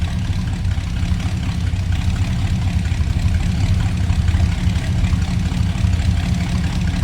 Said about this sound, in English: Nice, idle, nice, deep, throaty exhaust note.